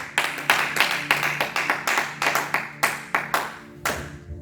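A church congregation claps in steady, fairly quick unison, a loud and close rhythmic beat of many hands with no voices over it.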